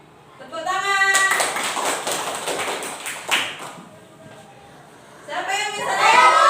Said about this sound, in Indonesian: Dua. Tepuk tangan.